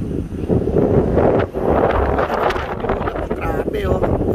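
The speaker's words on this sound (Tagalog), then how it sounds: "Tapos ang lakas ng hangin." Strong wind buffets the microphone in a steady, loud roar at sunset on the Marilaque Highway in Infanta, Quezon, with a voice speaking briefly under the gusts.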